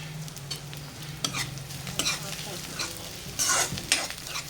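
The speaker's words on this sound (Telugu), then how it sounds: "చిన్నగా తరిగిన క్యాబేజీని పోపులో వేయాలి" Finely chopped cabbage sizzles in hot tempering oil with cumin, chilli and onion, a steady frying hiss broken by repeated scrapes and clinks of a spoon stirring the pan.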